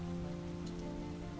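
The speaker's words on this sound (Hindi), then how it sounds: "बारिश अब धीमी हो गई है, लेकिन हवा में ठंडक बनी हुई है।" Steady rain falling on a surface in a village setting, a continuous even patter at moderate level with no break, alone without voices.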